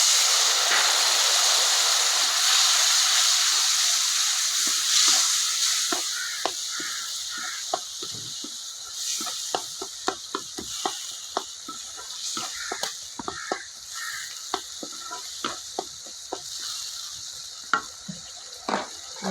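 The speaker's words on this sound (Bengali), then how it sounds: "পরিমাণ মতো অল্প জল দিয়ে দেবো মশলা কষার জন্য।" Spice paste for a Bengali katla fish tel jhal sizzles and crackles in hot oil after a splash of water, a steady hiss fading slightly over time with scattered sharp pops and stirring clatter.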